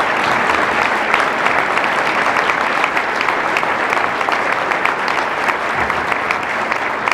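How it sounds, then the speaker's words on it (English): An audience at an economic forecast event gives the panelists sustained, loud applause of many hands clapping throughout, with no one speaking over it. "can I get a big round of applause for our panelists?"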